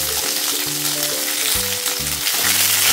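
Broad beans and garlic fry in a pan, a loud steady sizzle heard close up, with a low tonal hum underneath throughout.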